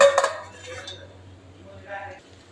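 Broken pieces of sukuti, Nepali dried meat, dropped into a cooking pan, giving a sharp clatter of pieces against metal followed by a softer second rattle, close and fairly loud with no talk.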